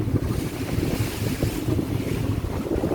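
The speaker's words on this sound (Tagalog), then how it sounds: "Grabe lalaki talaga mga kaagod." Big sea waves heard from a ferry crossing toward Matnog during the amihan monsoon, a constant rough rumble of water and surf mixed with heavy wind buffeting the microphone, steady and without speech.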